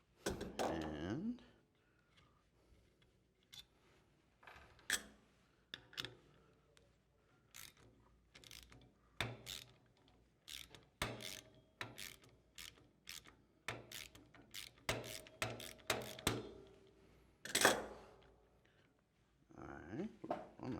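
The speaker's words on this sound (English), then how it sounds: "So I can come back in, take these bolts out right here" Bolts are taken out of a Fillauer posterior mount bracket on a prosthetic foot, with intermittent close metallic clicks, ratcheting and rattles of the tool and parts in irregular clusters over the whole span.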